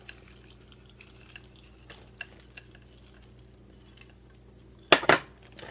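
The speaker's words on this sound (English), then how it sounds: "Another cup of the mixed veggies." A cup of mixed vegetables goes into chicken pot pie filling, with soft scattered clinks of utensil against dish and quiet stirring, then a louder rustling pour and thump near the end, no talking.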